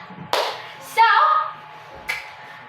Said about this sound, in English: Let's give group 2 one clap.